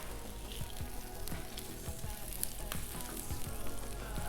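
Butter sizzling on a hot Blackstone griddle while French toast cooks, a continuous close crackling hiss with scattered sharp pops and no talking.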